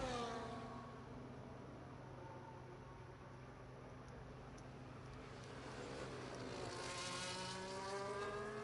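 Formula One cars in a Japanese Grand Prix racing video game: a steady high-pitched engine whine holds throughout, with rising harmonic sweeps near the end as a car accelerates close by.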